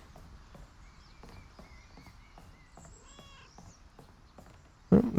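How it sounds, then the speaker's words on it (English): A cat meows once, faint and mid-distance, in the video game South of Midnight, over soft footsteps and ambient game sounds, with a louder thump near the end. "I heard the noise of a cat and turned around."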